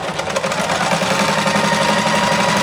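A sewing machine stitching a garment's neck lining runs steadily and loudly throughout, a continuous close mechanical whirring with fast rhythmic needle chatter.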